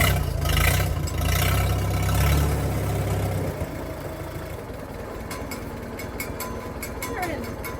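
A 1957 Farmall tractor engine runs loud and rumbling at first, then drops lower and rougher, with clanking bursts late on and people talking over it.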